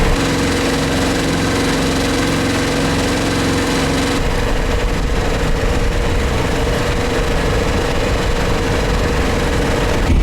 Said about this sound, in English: Right now we're only motoring, we're not even sailing yet.